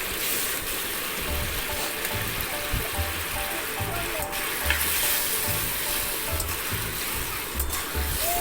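Fried potatoes and cauliflower sizzle loudly in hot masala, with a steady close frying hiss and rhythmic low scraping as they are stirred, no talking.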